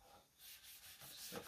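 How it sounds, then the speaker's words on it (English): A cloth rag rubs Miss Mustard Seed hemp oil onto a handmade rustic wooden farmhouse lantern, giving soft, close, faint swishing strokes that build slightly louder near the end, with no talking. "I'm just going to take a rag. I'm just going to wipe it down."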